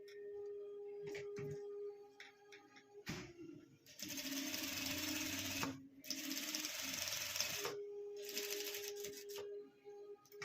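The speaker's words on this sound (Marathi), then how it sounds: "तर चला आता आपण ही शिवून घेऊया" Sewing machine stitching along the neckline of a jacket made from a saree pallu, with bursts of steady mechanical whirring separated by brief pauses, close and fairly loud.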